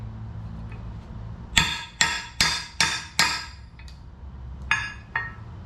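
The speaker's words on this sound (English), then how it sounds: "So now I need to get a socket or something so I can hammer these in" A socket is hammered on a chunk of steel to drive parts in past a snap ring: five sharp metallic strikes in an even rhythm, then two more after a pause, close and ringing.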